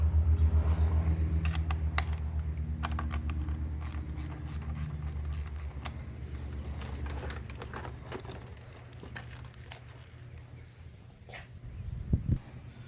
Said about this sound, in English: we're going to pop our negative cable off here with a 10mm